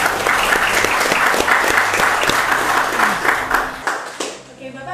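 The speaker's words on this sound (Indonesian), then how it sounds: "kita beri tepuk tangan dulu buat Pangdam" Audience applause for the Pattimura military regional commander, a loud crowd clapping with distinct individual claps standing out, sustained before fading away toward the end.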